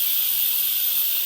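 A pressure cooker vents steam in a home kitchen, a loud, continuous high hiss held at an even level for the whole short stretch, with no talking.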